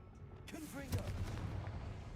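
In the Hogwarts Legacy video game, a Confringo fire spell goes off inside a mine, a low rumbling boom that rolls on for a couple of seconds, quiet and muffled, while a voice speaks over it.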